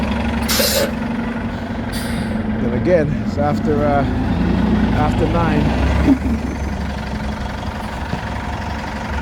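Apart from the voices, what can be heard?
city buses with air brakes and idling engines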